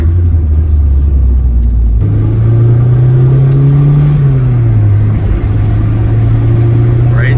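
A 1984 Dodge Daytona Turbo Z engine accelerating, a loud close low rumble that steps up in pitch, swells briefly with turbo boost, then sags back and holds steady, with no talk.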